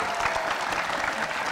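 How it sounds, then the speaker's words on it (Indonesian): A studio audience at an Indonesian comedy show claps in dense, steady applause that stays loud and even throughout, with a voice faintly underneath. "Tepuk tangan dulu"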